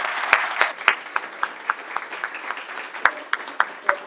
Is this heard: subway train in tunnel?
no